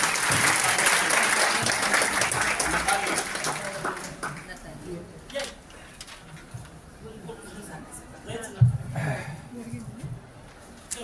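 A crowd applauding qualified candidates at the inauguration of a NET SET coaching programme: dense, steady clapping that thins out after a few seconds into faint room murmur and scattered small noises.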